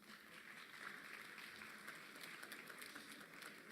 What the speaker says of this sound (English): Let's clap for Reverend Mavuso.